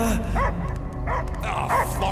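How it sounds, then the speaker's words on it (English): A dog barks in short yips and woofs several times, close by, mixed with game music and background sound, in Guardians of the Galaxy on PS5. "I hear only barking."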